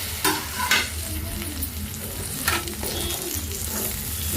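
Tender ivy gourd fried with coconut is stirred in a hot pan, with a steady close sizzle broken by several scraping stir strokes of a ladle against the pan.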